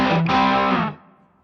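An electric guitar running a Helix patch with clean and distorted signals in parallel plays one sustained chord with a brief dip near the start, then rings out and decays over about half a second. It sounds loud and close, with no talking.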